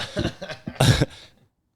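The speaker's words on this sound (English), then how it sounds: "he's coughing." A short burst of several coughs, close and fairly loud, followed by a brief fading breath.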